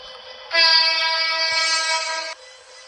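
Train horn in a train driving video game, one sustained loud synthetic blast lasting under two seconds, beginning and ending abruptly over a quiet hum.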